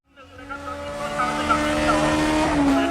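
Race cars in a game-style race roar at high revs while tyres squeal and skid as one car runs off the track, a loud, continuous engine whine that builds and holds close.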